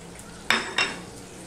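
Chilli powder, cumin powder and sugar stirred into yogurt with a spoon in a bowl, two quick close scraping clinks against the side over a soft background hum.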